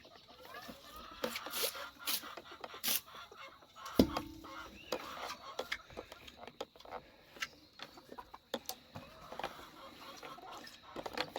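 Chickens clucking in a pen near the fences, scattered intermittent clucks and calls at a modest distance, quiet overall and free of talk.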